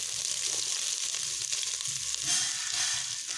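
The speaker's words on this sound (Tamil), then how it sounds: "ஆட் பண்ணிவிட்டு இதை ஒரு 2 நிமிஷம் நல்லா நம்ம வதக்கி எடுத்துடணும்" A paste of ground pepper, cumin and garlic sizzles and fries in a pan for rasam, a steady, close crackling hiss with no talk.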